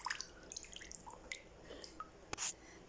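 Water drips and trickles in short, irregular bursts as it drains from a Barbie mermaid doll, with a brief louder splash near the end, close by and fairly quiet.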